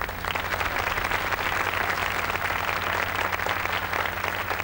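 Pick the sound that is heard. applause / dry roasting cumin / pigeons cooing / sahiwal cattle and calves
applause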